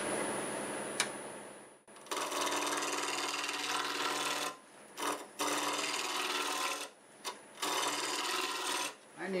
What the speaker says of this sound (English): first thing I'm going to do is make it round with my bowl gouge